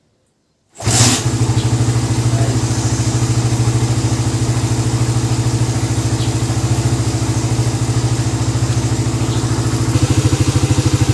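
A motorcycle fitted with a Nibbi 30mm roundslide carburetor fires up after silence and settles into a loud, steady, close idle with a fast, even pulse, with no talk over it.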